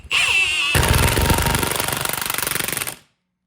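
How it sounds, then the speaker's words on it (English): A BeadBuster XB-455 tool pushing a tire bead off the wheel, a short hiss followed by a loud, rapid hammering rattle lasting about two seconds, pulsing faster toward the end, then stopping abruptly into silence. "I'm going to give you a little bit better view of what that does to push that bead off the tire"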